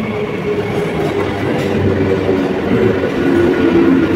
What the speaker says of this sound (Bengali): এটা হচ্ছে কল্যাণী সীমান্ত ট্রেন